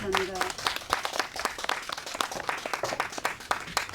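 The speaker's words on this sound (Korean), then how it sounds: "천양희 시인님께 큰 박수를 다시 한번 보내드리기 바랍니다" Audience applauds a poet, Cheon Yang-hee, at a literary talk show during a Han Yong-un literature camp, with moderately loud, continuous clapping that starts right after a brief bit of speech.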